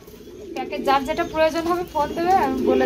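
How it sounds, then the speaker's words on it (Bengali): Soft, repeated throaty cooing of chocolate-coloured lakha pigeons, close by, rising and falling in a continuous stream of low calls. "চকলেট কালারের মধ্যে লাক্ষা কবুতর"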